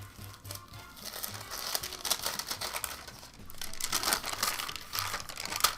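Sheet of ironing paper crinkles and rustles as it is handled during bead sprite crafting, with irregular crisp crackling bursts close by and no talking.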